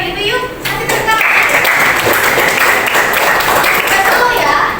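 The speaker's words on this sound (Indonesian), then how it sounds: "Kasih tepuk tangan." Classroom audience of students clapping steadily for a few seconds in appreciation, a broad dense patter of hands with a brief softer start and some voices mixed in.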